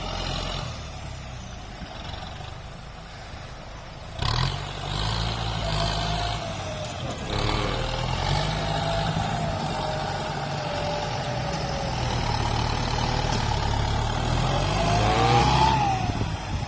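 Kubota M9540 tractor pushing heavy clay soil, a steady, fairly close diesel engine rumble that strains and rises in load, with clanking and a whining pitch sweep near the end; no one speaks.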